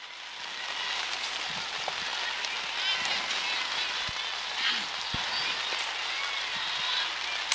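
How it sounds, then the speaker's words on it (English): Heavy rain pouring down at an outdoor softball park, a dense continuous hiss with scattered patters and drips, steady and fairly loud, with no voices over it. "This is the rain we knew that was coming here to D&M Park"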